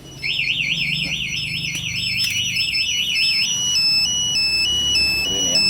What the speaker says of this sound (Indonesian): Alarm yang di motor ataupun yang di remote akan teriak seperti itu.